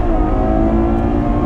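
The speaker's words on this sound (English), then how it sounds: "Not much exhaust, it's pure induction, just a little bit of exhaust." A Ferrari GTC4Lusso V12 revving loudly, its induction sound dominating over a little exhaust, with a dense harmonic roar held steady through the short burst.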